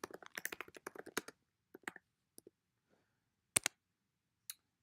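Rapid bursts of keystrokes on a computer keyboard as a page title is typed, followed by a few sparse, isolated key taps and two louder clicks; close and clear with no talking.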